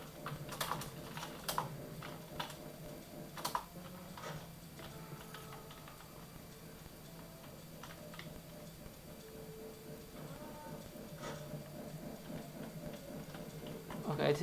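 Keys on a computer keyboard click in uneven clusters during a game of Unreal Gold, soft and near against a low steady hum, with someone talking quietly at times.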